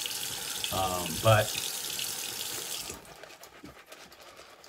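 Cold water runs steadily from a bathroom tap for lathering up a shave, a continuous close splashing hiss that stops abruptly partway through, with a brief spoken word heard over it.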